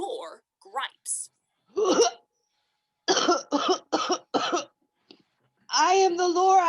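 A voice imitates the Lorax's coughing, whiffing and sniffing from a Dr. Seuss reading, with several short harsh bursts in a row and a longer rasping sound at the end, close and alone.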